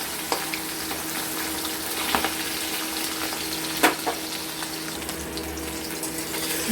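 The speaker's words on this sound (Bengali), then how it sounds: "মাছটাকে আমরা এপিট এপিট লাল লাল করে ভেজে নেব ভালো মতো করে।" Hilsa fish tails shallow-frying in hot oil in a pan, a steady loud sizzle that runs the whole time with a few brief crackles and spatters, no voices over it.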